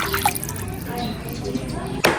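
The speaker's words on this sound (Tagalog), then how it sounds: "Ibabad po muna natin sa tubig at frozen nga po." Frozen food set to soak in a basin of water in a home kitchen, with soft drips and trickling water alongside a low clink near the end, while a voice talks nearby.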